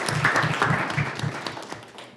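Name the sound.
audience applause for students at board meeting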